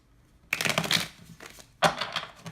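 Quick bursts of tarot card shuffling, a riffling flutter that pauses briefly and then starts again, close by and fairly loud.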